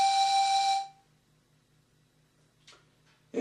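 A tugboat whistle cue from the Tugs series sounds as a single clear, steady tone that ends after about a second, followed by near silence and faint clicks.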